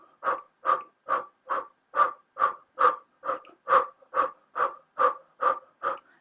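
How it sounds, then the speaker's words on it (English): Rhythmic breath-of-fire style breathing pushed through an open circular mouth, fourteen quick, evenly spaced forceful pumps, close and alone with no talking. "this is like breath of fire, only through that open circle mouth."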